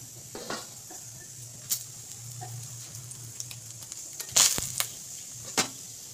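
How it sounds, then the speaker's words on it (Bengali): Whole cardamom, cloves, cinnamon and bay leaf are tempered in hot oil, with a soft, low sizzle broken by scattered sharp pops and crackles, the loudest burst near the end. "এই ফোড়নগুলো আমি একে একে তেলে দিয়ে নেব।"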